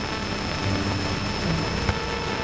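A Cessna 172's engine drones loud and steady in the cabin at takeoff, a constant broadband roar with a steady propeller hum throughout.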